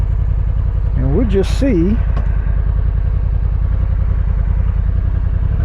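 A 2025 Honda NT1100 motorcycle idles with a loud, steady low rumble that fills the whole clip while someone briefly speaks over it.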